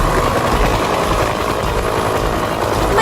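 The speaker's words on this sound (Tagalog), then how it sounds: "May dumating na fire rescue helicopter." Fire rescue helicopter arriving, a steady loud rotor drone with a dense, continuous throb and no pauses.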